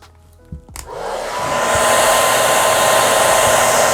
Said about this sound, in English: I'm gonna go ahead and hit this with the dryer